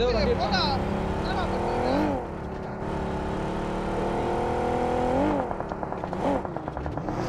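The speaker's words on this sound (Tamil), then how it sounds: "ஏதோ ஒரு வண்டி இருக்கு." A vehicle engine in the video game Free Fire drones and revs with shifting pitch, rising and falling as it moves, accompanied by steady background noise and music-like tones.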